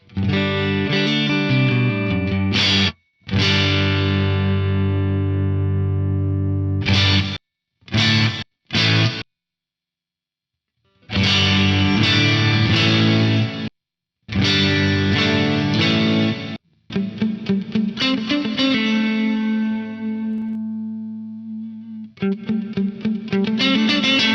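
An electric guitar played through a gated reverb effect on an Axe-Fx III, with loud distorted chords and notes whose reverb tails cut off abruptly into silence between bursts, heard alone without talking.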